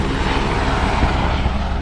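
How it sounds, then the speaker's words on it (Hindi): A helicopter at the Ghangaria helipad on the Gobind Ghat route runs with a dense, continuous engine and rotor roar, loud and steady throughout the short stretch with no talking. "ये एक ही हेलीकॉप्टर था जो कि हमने यहाँ तक आते आते देखा"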